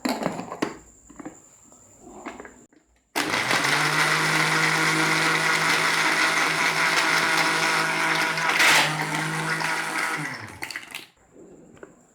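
A kitchen blender whirs chocolate lassi at a loud, steady drone for about seven seconds, starting abruptly and winding down, with quieter handling sounds before and after.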